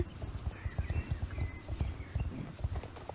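Steady, rhythmic horse hoofbeats clip-clop in the game Star Stable, loud and close in a continuous trotting pattern with no talking over them.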